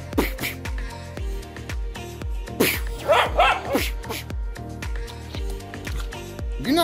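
Several dogs bark in repeated sharp bursts close by during obedience play with treats, with a few yips and whimpers mixed in and a person talking between the barks.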